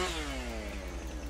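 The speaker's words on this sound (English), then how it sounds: "You just walk up to it, start your chainsaw, and say the magic words." A chainsaw in the video game Alaskan Road Truckers cutting down a tree, heard as a steady high-pitched motor whine that slowly drops in pitch over about a second, over a constant low hum.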